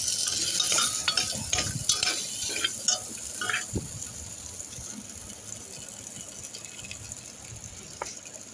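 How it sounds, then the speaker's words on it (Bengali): Potato, pointed gourd and ginger paste are stirred in butter, the spoon scraping and clattering in the pan with a soft sizzle, busier at first and then settling to a faint hiss with occasional knocks. "একটু অল্প আদা বাটা দিয়েছি আমি, দিয়ে ওগুলোকে ভালো করে বাটার দিয়েই নাড়ছি।"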